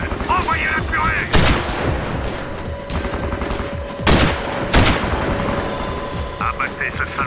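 Gunfire in the video game Sniper Ghost Warrior, with loud rifle shots and sustained automatic fire cracking over a dense battle soundscape, and radio chatter in French heard beneath.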